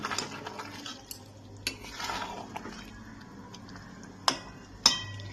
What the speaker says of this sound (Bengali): এবার আমি মাংসটাকে ভালো করে কষাবো যতক্ষণ না পর্যন্ত মাংসটা পুরো ভালো করে কষা হচ্ছে